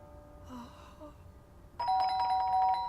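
A doorbell rings in the video game Fragments of Him, a clear electronic chime of sustained bright tones arriving after a quiet stretch with faint soft sounds.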